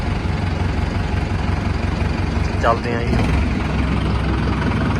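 A tractor engine runs steadily in a village setting at a langar, a low continuous rumble with a man's brief speech over it partway through.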